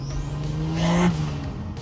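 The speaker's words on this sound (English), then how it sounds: "it definitely has some 2JZ notes, you know, in the exhaust with the turbo noises" A cheap turbocharged Jeep engine revs steadily with a buzzing exhaust rasp and turbo whir, swelling briefly into a louder peak before settling back to a constant drone.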